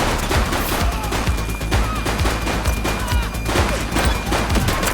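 Dense, rapid gunfire crackles without a break in the police video game The Precinct, loud and close, with sharp impacts layered over a constant roar of shots.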